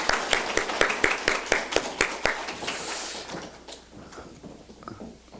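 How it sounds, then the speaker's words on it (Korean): A church congregation claps together at a Thanksgiving Sunday worship service, a burst of loud, fairly rhythmic hand claps for about two seconds that thins out into scattered, fading claps and murmur. "우리 하나님께 박수로 영광 돌립시다."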